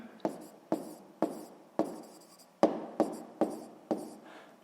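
Writing numbers on a board during a sixth-grade math lesson: eight or so crisp, evenly spaced strokes and taps, each with a sharp start and brief scratchy tail, close and clear with no talking.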